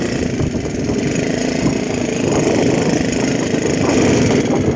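A Honda C70 motorcycle engine runs steadily and fairly loud as it rides through countryside scenery near Chanthaburi, with a constant drone and wind noise and no talk.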